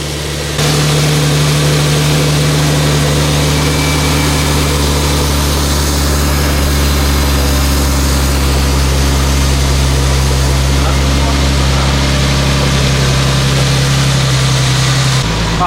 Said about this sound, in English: intakes are on, first fire up.